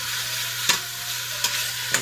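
A sausage and seafood gumbo sizzles steadily in a hot pot, and three sharp scraping strokes from the stirring spoon cut through the frying hiss at even intervals.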